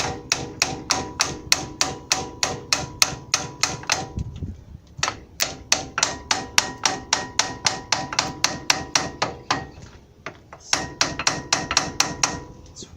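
A hammer strikes the front brake parts of a 1994 Ford Ranger with manual locking hubs, giving rapid metallic blows in long, steady runs with brief pauses, close and loud.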